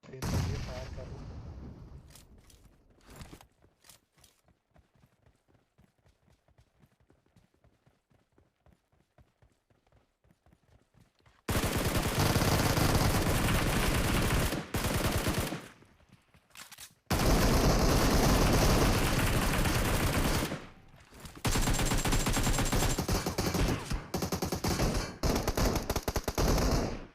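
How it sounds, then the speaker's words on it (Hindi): Rapid automatic gunfire bursts in PUBG Mobile, a battle royale game during a rush on knocked enemies, sparse shots at first, then long loud sustained volleys broken by short pauses. "तेज चलिए फायर कर रहा हूँ।"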